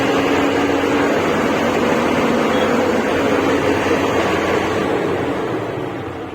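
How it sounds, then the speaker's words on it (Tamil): A lorry engine revs with a loud, steady broadband roar that holds evenly and then tapers off at the end, close by with no talking. "வண்டியோட ரைஸ் சவுண்டு பாருங்கள்"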